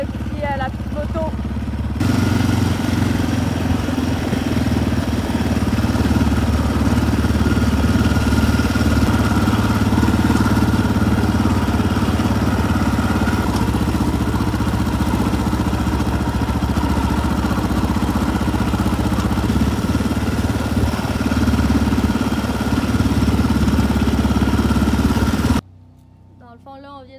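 A small motorcycle engine idles steadily nearby at a chalet, with a low, even rumble and faint voices underneath, then cuts off near the end.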